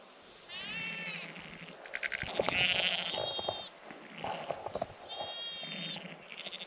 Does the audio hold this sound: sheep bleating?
yes